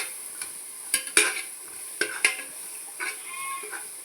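Ginger garlic paste sizzling softly in a pot while a spoon stirs it in scattered scrapes and taps, quiet and close with no talking.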